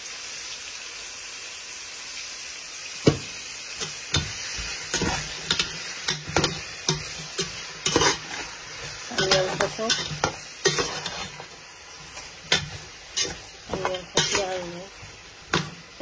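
Onions fry in a hot pan, a steady sizzle broken by sharp scrapes and clicks of stirring that come in irregular bursts, with some faint voices in the background.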